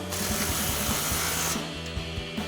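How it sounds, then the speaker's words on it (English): A close, loud impact wrench with a 15mm socket hammers rapidly and steadily as it tightens exhaust clamps on a 2024-2025 Mustang GT Roush cat-back exhaust, then cuts off sharply after about a second and a half. "tighten our 2 clamps down here. the same thing, impacted 15mm socket."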